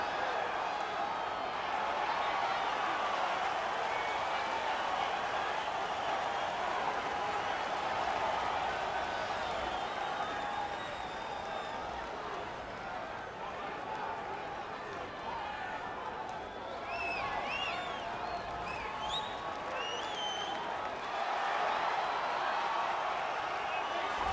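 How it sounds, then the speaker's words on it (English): Stadium crowd in the EA Sports UFC 3 video game roaring steadily for a fighter's walkout, a dense, sustained wash of cheering with scattered whistles and a commentator talking over it. "what a pop from the crowd as this guy makes the walk"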